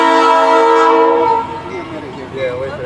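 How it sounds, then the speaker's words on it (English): A train passes by with a sustained horn blast, loud and close, then fades into rumbling and wheel noise while a voice speaks briefly. "That's the first time I see a train pass by"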